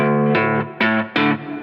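An electric guitar played through a pitch effect into a real amp sounds three distorted, sustained notes in succession, each attack loud and close with a ringing decay.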